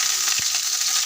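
Bay leaves and cumin seeds sizzle in hot oil while a vegetarian pea dal is being cooked. A steady, bright frying hiss runs throughout, with one soft thump partway through.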